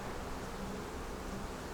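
Honeybees and larger drones buzz inside a ten-frame split hive, a steady, soft, close hum with no voices.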